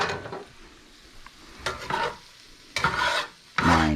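A tortilla frying in oil in a pan makes a low, scraping sizzle with several sharp, louder bursts as it is flipped and moved.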